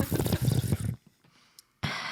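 Water poured over a glass packed three-quarters with ice, a busy splashing trickle that stops abruptly, a near-silent pause with a faint clink, then the pour resumes loudly.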